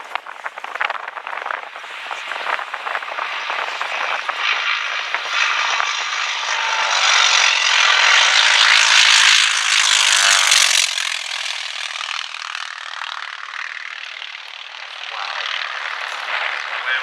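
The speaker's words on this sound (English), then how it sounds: "Have a listen to the sound of this aircraft as he goes past." A T-28 Trojan warbird with a radial piston engine passes at an airshow, its loud rasping drone building as it nears, peaking with a sweeping doppler shift, then fading as it moves away.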